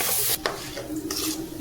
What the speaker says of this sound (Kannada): ಇವಾಗ ಇದನ್ನು ನೀಟಾಗಿ ಸ್ವಲ್ಪ ಫ್ರೈ ಮಾಡ್ಕೊಬೇಕು